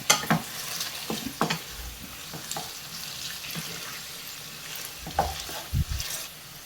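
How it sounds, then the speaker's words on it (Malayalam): Potato pieces for a Spanish omelette fry in a pan while a utensil stirs and turns them, producing a steady sizzle broken by several close scraping knocks at irregular intervals. "നമുക്കൊന്ന് ഇളക്കി കൊടുക്കാം ഇതുപോലെ എല്ലാ കഷ്ണങ്ങളും ഗോൾഡൻ ബ്രൗൺ ആയിട്ട് വരണം"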